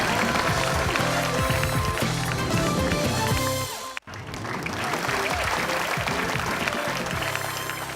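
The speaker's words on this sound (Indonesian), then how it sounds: "kita berikan tepuk tangan untuk Intan" Studio audience of the Indonesian word game show Temukan Kata claps loudly and continuously for a contestant, with a brief break midway, over background music and faint talk.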